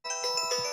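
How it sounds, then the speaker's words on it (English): A phone ringtone for an incoming call sounds in a bright, steady electronic chime that starts abruptly and holds at a fairly loud level for under a second. "Oh, 1 second, I've got a phone call."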